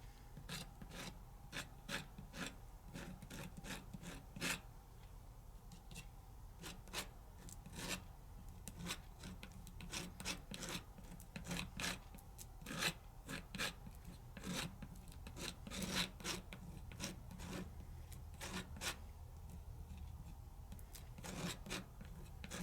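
Palette knife mixing and scraping acrylic paint medium in a studio, making a steady run of soft, close rasping strokes that repeat quickly and evenly, with no voices.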